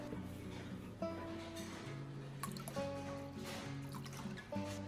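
Water and white vinegar are poured together for a blueberry soaking solution, with soft trickling and dripping liquid sounds heard faintly beneath steady background music.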